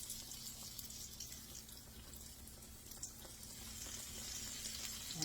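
Cube steak fingers sizzle in hot oil with a soft, continuous crackle and hiss, faint and close, heard alone without talk.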